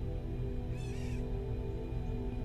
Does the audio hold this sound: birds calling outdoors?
yes